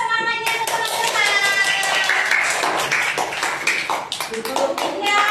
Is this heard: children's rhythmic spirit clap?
yes